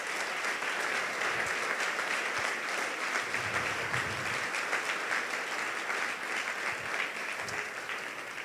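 A church congregation at a Saturday service applauds steadily, a continuous wash of many hands clapping that stays even and sustained from start to finish.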